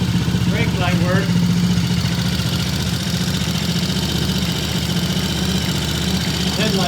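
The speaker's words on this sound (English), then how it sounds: "And the bike is idling, it has a high idle, but it is idling." A T20M motorcycle engine idles fast with a high idle, a steady close rumble with even pulsing throughout, while someone talks over it.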